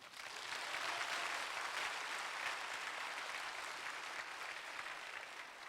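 An audience at a church thanksgiving evening applauds after a song, a dense, steady wash of many hands clapping, fairly distant and sustained for several seconds with no talk over it.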